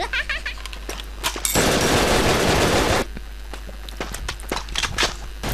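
Gunfire in the video game BrickForce: quick clicky shots early on, then a sustained loud burst of rapid automatic fire lasting about a second and a half, followed by lighter scattered shots and footsteps.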